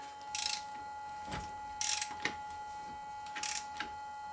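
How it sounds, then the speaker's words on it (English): A Mercedes M112 V6 crankshaft on an S 320 is turned by hand, giving a few soft ratcheting mechanical clicks in short bursts over a faint steady hum, close and quiet. "I'm going to attempt to spin the crankshaft."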